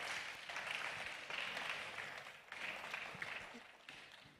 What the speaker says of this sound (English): Let's clap for Senator